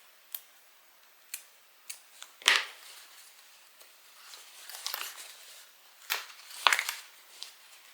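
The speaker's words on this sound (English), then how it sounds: "So I'm just going to put a few little snips in here." Scissors snipping the bottom fabric of a sewn bag: a few sparse, quiet crisp cuts spread out at irregular intervals, close by in a hushed room, with faint rustling of cloth in between.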